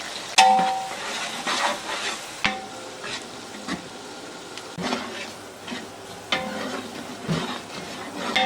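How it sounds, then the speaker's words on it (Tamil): Onions, two kilos and four hundred grams, sauté in oil with spices in a big pot for a six-kilo chicken biryani, with a steady sizzle and repeated metal scrapes and clanks from stirring, no talk. "ரெண்டு கிலோ நானூறு கிராம் வெங்காயம் சேர்த்து நல்லா கோல்டன் ப்ரௌன் ஆகுற வரைக்கும் வதக்கிடுங்க"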